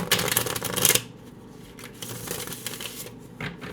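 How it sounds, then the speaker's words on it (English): A deck of cards is shuffled close up, giving a brisk riffling flutter that ends abruptly, followed by quieter handling noises and soft taps. "I do that by shuffling."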